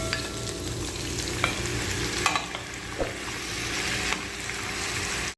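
Squid sizzles and crackles steadily in a hot pan for a sweet spicy squid dish, with a few clacks as it is stirred, loud and close with no talking.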